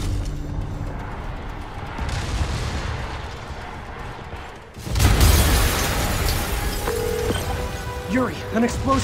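A sudden loud boom erupts midway in Spider-Man Remastered on PS5, followed by a rumbling, crackling aftermath with scattered mechanical beeps and tones from game effects.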